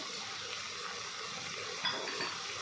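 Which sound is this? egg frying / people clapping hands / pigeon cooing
egg frying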